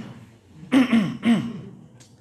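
Someone in a congregation during a sermon on preparing for Ramadan clears their throat roughly three times in quick succession, close and fairly loud, with a short cough-like rasp.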